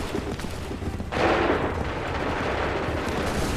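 In the video game Assassin's Creed 3, set in Montreal, a loud musket volley from a rank of soldiers cracks out suddenly after a low battle rumble, its echoing roar fading slowly into continued background din.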